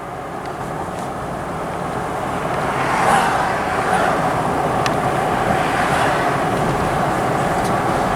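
A vehicle towing a Forest River R-Pod camper rolls over railroad tracks, a steady, loud low rumble and road noise throughout with a few faint knocks as the wheels cross the rails.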